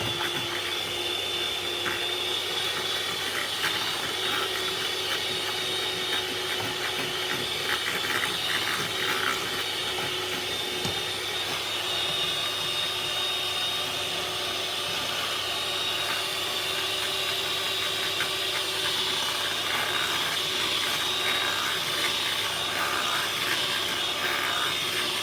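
An electric mixer beats cupcake batter in a tall jug, giving a steady buzzing whir with a faint rattling, grinding texture that runs without a break throughout.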